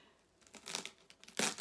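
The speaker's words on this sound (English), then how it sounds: "I think I'm gonna unwrap as much as I can before I start pulling it" Plastic wrap being pulled off a heavy Singer Featherweight sewing machine, a few short, quiet crinkling and rustling bursts close by, the sharpest crackle coming just before the end.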